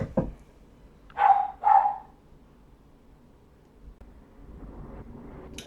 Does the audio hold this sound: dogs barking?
yes